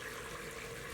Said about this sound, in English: At this point, we're going to add about 1 1/4 cup of water.